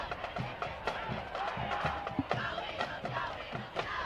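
Fans in the stands at a high school football game between Eisenhower and Roseville roar and chant in a steady rhythmic pulse, with scattered claps and shouts from a large crowd filling the stadium.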